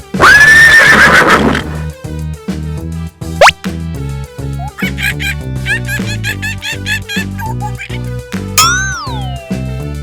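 A horse neighs loudly in a short, quavering whinny right at the start, layered over bouncy children's music that keeps playing with playful sound effects afterward.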